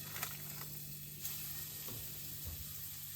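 Porcupine meatballs set into hot oil in a pan give off a soft, steady sizzle with faint crackles and small bumps as they land, quiet and close, with no talking.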